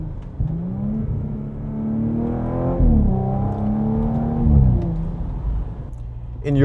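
A 2021 Audi S5 Sportback's engine revs up, drops sharply at a gear change and climbs again, a close, loud rising drone with a brief dip between pulls.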